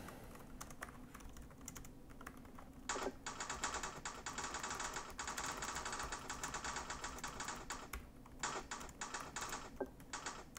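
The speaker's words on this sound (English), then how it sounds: "let's go ahead and do a quick typing test" Fast, steady typing on the keyboard of an HP Stream 14 laptop, rendered as close, crisp clicks that run almost continuously with a few short pauses.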